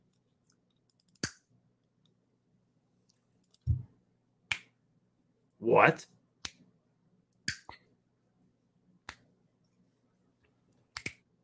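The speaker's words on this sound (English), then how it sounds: "when you snap your fingers, the sound you hear is your finger hitting your palm" Fingers snap one at a time, eight or so crisp, isolated cracks spread unevenly across a quiet room, with a few short voice sounds between them.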